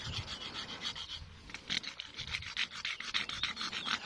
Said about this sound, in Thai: ขูดเมือกออกครับผม